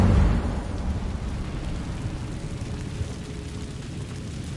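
An Incendio fire spell cast in Hogwarts Legacy inside a cave, opening with a loud burst and then settling into a steady, rumbling roar of flame that lasts several seconds with no voices.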